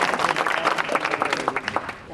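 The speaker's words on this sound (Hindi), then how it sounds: "भाई के लिए जोरदार ताली" Audience applause for a young speaker at a youth discussion event in Chhindgarh, a short burst of scattered, moderately loud clapping that thins out toward the end, with voices mixed in.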